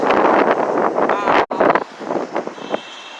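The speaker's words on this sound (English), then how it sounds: "it's windy out here" Strong wind buffets the microphone in loud, rumbling gusts while walking in Central Park, with a brief lull before the gusting picks up again more unevenly.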